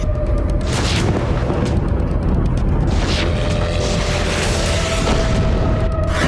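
Deep, rumbling booms of explosions in Donetsk during the Russia-Ukraine war roll continuously, loud and heavy, with several stronger blasts standing out amid a constant low roar.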